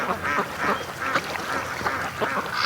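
Free-range ducks quacking in a rapid series of nasal calls close by, several birds overlapping in an uneven rhythm.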